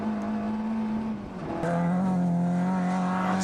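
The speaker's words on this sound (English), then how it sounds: "this car is constantly at the top of its rev range" A Mini Cooper S race car engine screams near its 7,200 RPM limit, a loud, sustained high-pitched drone that dips briefly as the gear changes, then holds steady at high revs again.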